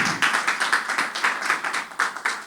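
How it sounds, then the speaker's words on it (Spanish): A church congregation claps in praise to the Lord at a Sunday service, a brisk run of sharp, fairly regular handclaps close by, carrying on steadily with no speech over it. "Dele un aplauso al Señor por eso"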